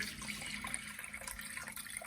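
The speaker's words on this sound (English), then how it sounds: "I'm gonna measure out my water," Water runs steadily with a soft splashing, hiss-like rush, close by and continuous, as 100 milliliters is measured out for focaccia dough.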